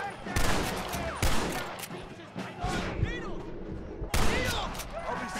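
Rapid bursts of Gatling gun fire in the video game Red Dead Redemption, Undead Nightmare, crackle loudly and repeatedly, with several sharp volleys stacked over a continuous din of shooting.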